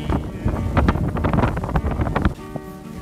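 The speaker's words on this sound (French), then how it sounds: "on sait pourquoi il y a du vent" Strong wind buffets the microphone outdoors at a highline site in the Aravis mountains, a loud gusty rumble and roar that drops off sharply near the end, leaving faint tonal background.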